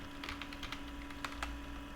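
Light, quick clicks of typing on a computer keyboard while writing web page code, a scattered run of soft keystrokes over a faint steady hum with no voices.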